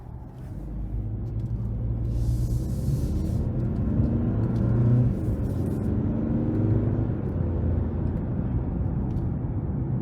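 A 2023 Hyundai Santa Cruz Limited AWD pickup with the 2.5-liter turbo engine drives along with a steady low engine rumble and road drone heard from inside the cabin, the pitch rising and falling as it accelerates, with no talking.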